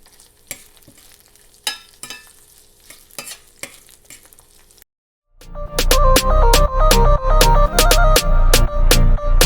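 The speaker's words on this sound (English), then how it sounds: "It is time for me to stir the mushrooms, cook those in the tarragon and the lemon thyme" Mushrooms frying with tarragon and lemon thyme, stirred in a pan: scattered clinks and scrapes, then a sudden loud, continuous sizzle with rhythmic stirring strokes, no talking.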